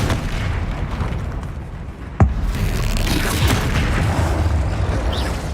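A Bombarda blast spell detonates in Hogwarts Legacy, one sharp, loud boom cracking out mid-clip over a constant rumbling background of battle noise and low roar.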